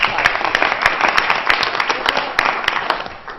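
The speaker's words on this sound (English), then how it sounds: "So a round of applause." A round of applause fills a board meeting room, many hands clapping steadily and fairly close with no pauses, a dense continuous patter throughout.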